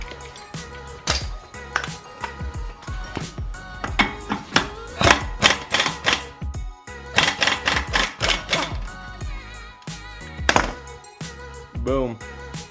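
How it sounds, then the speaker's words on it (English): An impact wrench fitted with a 32mm socket hammers off a CV axle bolt on an STI, in loud rattling bursts that start and stop repeatedly and sit close to the listener. "So pretty much we're going to take it off with the impact."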